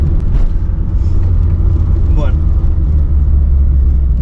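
A Citroën AX small hatchback drives through a curve, its engine a steady low rumble throughout, with a brief higher whine partway in and a person talking over it.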